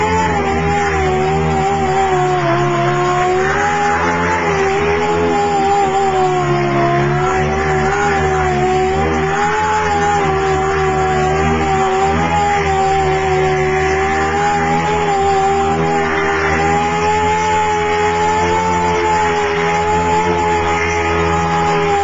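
A motorized sander runs continuously at a steady whining pitch, loud and close, with a gritty rasp as it grinds over dried body filler during car bodywork.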